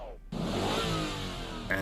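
A Ferrari engine in Need for Speed: Hot Pursuit 2 starts abruptly, then holds a loud, smooth, high-revving drone that eases slightly before a short rise at the end. A voice can be heard over it.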